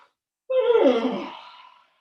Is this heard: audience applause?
no